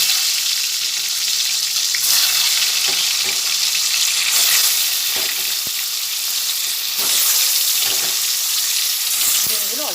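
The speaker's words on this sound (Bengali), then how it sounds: "এরপরে ডিমগুলো এক এক করে দিয়ে ভেজে নেব" Eggs coated in salt and turmeric fry in oil in a pan with a loud, continuous sizzle. Occasional utensil scrapes and stirring sounds break in, close up.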